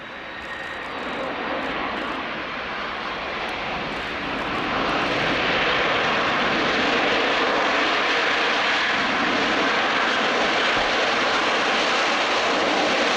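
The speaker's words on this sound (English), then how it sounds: "Look at this bird strike in the engine of the Antonov airplane after landing." A large Antonov military airplane's engine roars after landing, a loud broad whine and rush that swells louder partway through and holds steady, with no talk.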